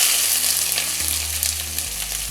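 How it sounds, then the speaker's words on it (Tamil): Chopped onion sautéing in hot oil with garlic for a village-style chicken roast gives a close, steady, dense sizzle that holds evenly throughout, with a low hum underneath. "வெங்காயத்தை நல்லா வதக்கிக்கலாம்"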